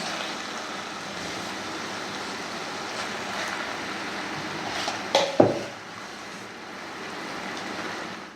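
Boiled, mashed vegetables tipped into a pan of sautéed pav bhaji masala on a low flame, with a brief clatter of a spoon against the pan around the middle, set against a steady hiss of cooking.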